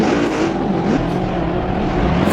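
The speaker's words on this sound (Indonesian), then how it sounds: "Wah, ada mobil balap guys." Toy race car among a collection of toy vehicles, giving a steady buzzing motor whine that holds close and loud throughout with no talking.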